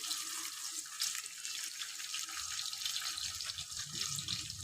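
Spring onions sizzling in hot oil in a pan for a chicken dish, producing a loud, continuous hiss with low bubbling growing beneath it, with no voices.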